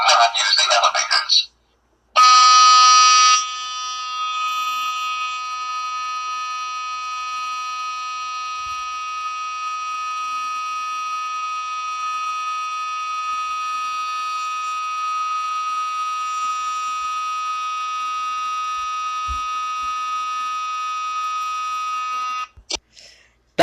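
A building fire alarm rings as a loud, steady electronic tone that holds for about twenty seconds after a short burst of noise, then cuts off.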